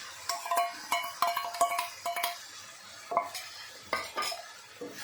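Okra and potato curry coated in chilli, cumin and coriander spice paste is stirred in a pan, a spoon scraping and clinking in quick irregular strokes over a soft sizzle, close and fairly quiet.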